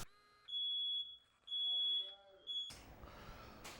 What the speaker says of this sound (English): So that was a fun fire alarm